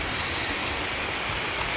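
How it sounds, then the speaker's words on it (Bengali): Wind-driven rain pours over waterlogged paddy fields, a dense, unbroken hiss of rain at a steady level with no voices. "এইদিকে দেখো কীরকম হাওয়ার বৃষ্টি চলছে"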